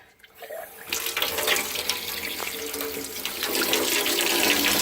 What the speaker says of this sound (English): Your faucet's leaking.